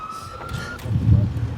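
An ambulance siren arrives at a staged crash scene during a 2022 Lemoore High School Every 15 Minutes drill: a steady siren tone holds briefly, then gives way to a low engine rumble nearby.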